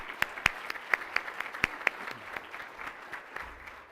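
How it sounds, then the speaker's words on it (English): An audience at the 2025 Delaware Teacher of the Year event applauding, sharp distinct claps at first that thin into a softer scattered patter, fairly faint and distant. "Let's give her a round of applause."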